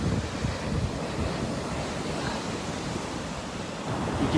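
Ocean surf rolls onto a rocky shore, pushing stones along, as a steady broad wash of waves mixed with gusty wind buffeting close to the microphone.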